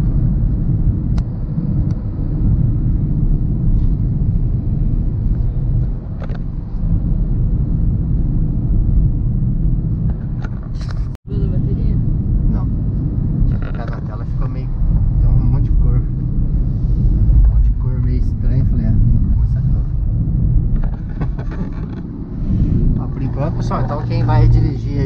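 Rush-hour car traffic on a three-lane avenue, heard from inside a driving-school car as a steady low engine and road rumble runs throughout, with people talking over it.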